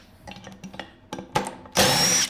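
A power tool with a T50 Torx bit on a 2017-2021 Can-Am Maverick X3 clutch job: a few light knocks and rattles, then a short loud whirring burst close to the microphone at the end.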